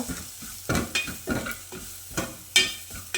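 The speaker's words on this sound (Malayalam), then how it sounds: "ലേശം കുരുമുളക് പൊടി ഇട്ട് ഒന്ന് ഇളക്കി വെക്കുക." Pepper powder is stirred into a curry frying in a pan, made with leftover chickpea curry. Rhythmic spoon scrapes and stirs repeat about every half second over a soft, close sizzle, with a sharp clink near the end.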